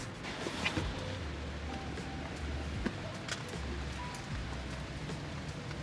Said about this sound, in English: it is actually pouring outside still